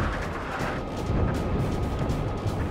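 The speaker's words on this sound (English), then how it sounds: "flak, anti-aircraft fire" Anti-aircraft flak bursting over Hanoi during an F-8 Crusader and MiG dogfight, a dense continuous rumble of booms and crackling blasts that stays loud and fairly steady throughout, with no voices.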